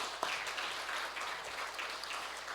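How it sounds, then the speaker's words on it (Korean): A church congregation claps as a blessing during a service, producing faint, even applause that runs throughout the short stretch. "우리 뒤돌아서 인사할 때 축복하는 마음으로 박수 쳐줄 수 있기를 바랍니다."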